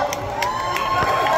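A hometown wrestling crowd in Columbus, Ohio cheers and whoops for a Midwest wrestler at an AEW Rampage event, a dense, steady roar of voices with shouts rising throughout.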